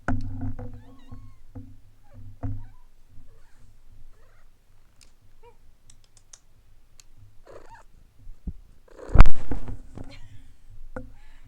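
A cat purrs softly close by with scattered clicks and rustles, then a sudden bump near the end.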